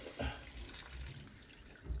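Water rushing from a leaking copper pipe joint after the supply is turned on during a UK renovation, a steady broadband hiss with low gurgling bursts, fairly faint and continuous.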